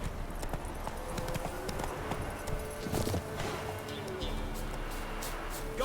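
A horse gallops in the Witcher 3 video game, its hooves clip-clopping in a quick, steady rhythm with game ambience, and a voice speaks over it.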